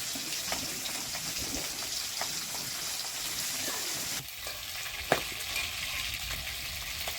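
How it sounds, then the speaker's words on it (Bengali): River fish frying in hot oil give off a steady, dense sizzle that runs the whole time, with a brief lull partway and one sharp clink near the end. "কিভাবে মাছগুলো ফুটতেছে এখন তুলে নিচ্ছি।"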